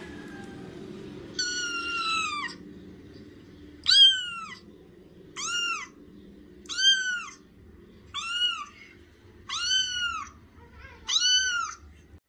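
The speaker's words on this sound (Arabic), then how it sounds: "يلا بينا الأول نسمع صوت القطة" A cat meows six times in a slow, evenly spaced series, each call clear and fairly close, over a faint low background hum.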